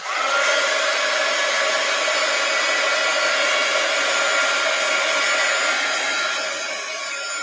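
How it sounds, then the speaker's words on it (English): A heat gun blows steadily on an art journal page while it dries, a continuous loud whooshing hum running the whole time without a break and easing slightly near the end. "Let me get my heat gun. It won't take long to dry."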